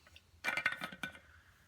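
A thermos lid turns and unscrews with a short run of small clicking, clinking ticks, close and fairly quiet, and then fades out.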